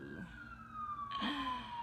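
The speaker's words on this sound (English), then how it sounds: "If y'all hear police ambulance in the background" Distant police and ambulance sirens from a nearby police department drift through a room during a makeup routine, a steady wailing tone sliding slowly downward, faint and continuous with a brief louder rise near the end.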